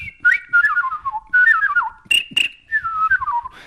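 A man whistles bird call imitations, three warbling descending phrases with a couple of sharp high chirps between them. Close and clear, with no talking.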